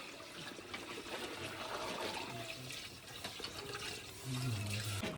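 Water is poured into a pot of village-style chicken biryani on a wood-fired stove, with country chicken and rock salt inside. It makes a soft, steady splashing and trickling, fairly quiet throughout and slightly fuller near the end.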